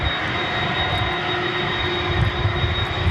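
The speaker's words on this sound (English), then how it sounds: "So the plane taking off should be going from left to right." An airplane takes off at DFW Airport with a loud, continuous engine roar and a steady high whine, close and dominant throughout.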